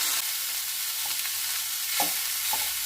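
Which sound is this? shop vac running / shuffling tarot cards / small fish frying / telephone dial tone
small fish frying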